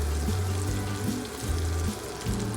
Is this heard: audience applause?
no